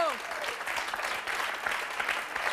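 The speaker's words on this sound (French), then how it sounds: "Je pense qu'on peut vraiment applaudir Sarah très très fort." Steady audience applause filling the room, a dense even wash of clapping that holds at moderate level throughout with faint voices mixed in.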